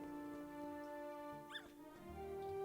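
A small dog in the video game Luma Island gives a few faint, high whimpering yips, heard softly over a steady tonal game music bed.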